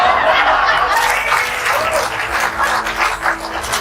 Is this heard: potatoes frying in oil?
no